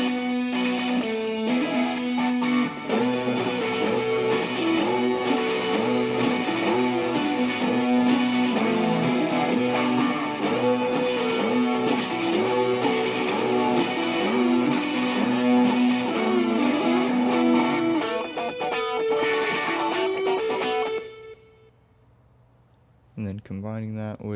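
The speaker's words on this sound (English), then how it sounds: "So all those guitars together sound like" Several distorted electric guitars stacked together double a recorded solo in a studio mix, a loud, dense wall of sustained notes that cuts off sharply near the end, leaving a short quiet tail.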